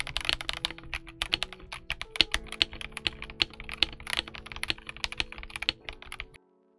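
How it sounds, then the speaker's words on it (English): Keys on a Kemove K87 retro TKL mechanical keyboard clack in a quick, irregular run of sharp, crisp strokes, close and fairly quiet, with no one speaking, ending abruptly. "It definitely sounds like a steel keyboard."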